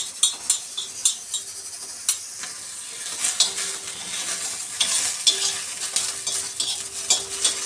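Green chilies fry in oil for a sambar, giving a crackling sizzle. A spoon or spatula scrapes and taps against the pan in repeated sharp clicks throughout.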